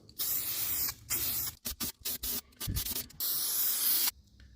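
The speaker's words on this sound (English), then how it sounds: "I like to use this weld through primer" Weld-through primer is sprayed from an aerosol can onto a steel body panel of a 1969 Ford Econoline under rust repair. The hiss comes close in a series of short and longer bursts with brief gaps between them, and no one speaks.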